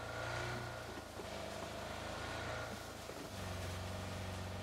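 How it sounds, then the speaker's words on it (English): Car engine in the PUBG video game, a steady mid-pitched hum running at moderate distance under ambient noise for several seconds, with a slight dip midway before it continues. "There's a car."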